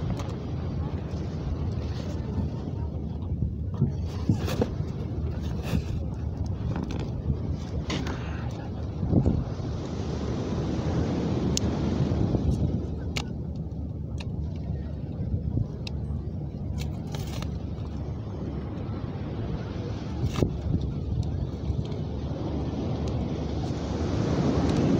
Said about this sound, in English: The ocean sounds in the background.